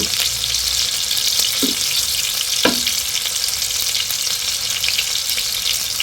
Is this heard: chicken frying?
yes